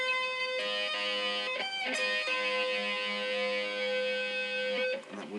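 Sweep-picked guitar arpeggio with a finger held down so the notes ring into each other, giving a sustained, overlapping chord-like wash after a quick picked run. It rings alone, close and clear, and cuts off near the end.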